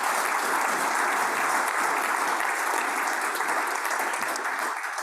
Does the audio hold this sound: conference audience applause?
yes